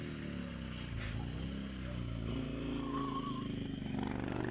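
A racing car engine at a hillclimb buzzes steadily, then revs higher as the car pulls away, with a brief sharp clatter early on.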